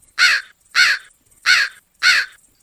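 Voices imitate crows, giving four loud, evenly spaced harsh caws in quick succession with short silent gaps between them.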